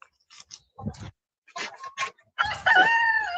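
Chickens cluck in short bursts inside a coop, followed by a rooster crowing loudly and close, with a few scattered scuffling sounds between calls.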